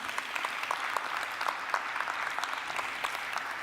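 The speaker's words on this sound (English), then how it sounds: "give her a warm, warm round of applause" A conference audience at an African Union panel session gives a warm round of applause, steady dense clapping filling the room throughout with no voices over it.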